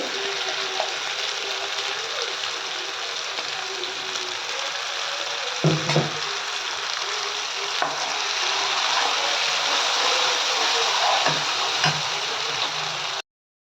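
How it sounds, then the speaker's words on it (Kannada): Spice masala frying in a pan for a Kannada avarekalu (hyacinth bean) curry, a steady close sizzle with occasional stirring scrapes and clinks, no talking. "ಹಸಿ ವಾಸನೆ ಎಲ್ಲ ಹೋಗೋವರೆಗೂ ಎರಡು ನಿಮಿಷ ಹಾಗೆ ಫ್ರೈ ಮಾಡ್ಕೊಳ್ಳೋಣ"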